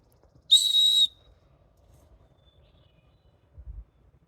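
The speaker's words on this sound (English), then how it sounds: "it sounds like somebody blowing the whistle on their backpack asking for help, but it's just a bird." A bird near Kennedy Creek on the Pacific Crest Trail gives a single pure, shrill whistle like a backpack safety whistle, about half a second long, loud and clear against quiet surroundings, followed by a faint low thump.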